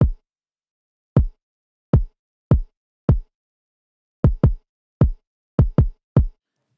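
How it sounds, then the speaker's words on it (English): A deep kick drum thumps alone in a steady pattern, around a dozen punchy hits with short gaps, clear and close. "what I usually use is the kick drum, which sounds like this"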